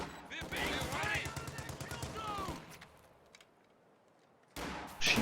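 Machine gun fire in a World War II strategy game, a rapid loud burst of shots lasting a couple of seconds, then quieter distant crackle and another burst at the end.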